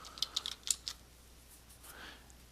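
Quick clicking keystrokes on a computer keyboard, a short burst of separate taps followed by a few softer clicks, faint and close.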